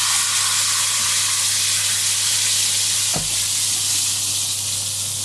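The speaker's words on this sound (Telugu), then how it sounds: "తాలింపు బాగా ఎర్రగా వేగిందండి." Tempering spices fried until red, sizzling hard in hot oil for spinach dal: a loud, continuous, close hiss of frying with one brief low knock midway.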